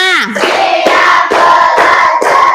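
Pupils in a classroom clap in unison, five crisp, evenly paced claps following a brief spoken count, loud and near.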